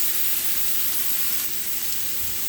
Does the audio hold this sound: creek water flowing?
no